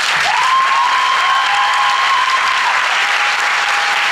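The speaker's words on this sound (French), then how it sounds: "Je vous demande de les applaudir." Loud, sustained applause from a crowd at a French Miss pageant show, honouring the festival committee's volunteers. Dense clapping fills the room while a long, high whistle rings out over it.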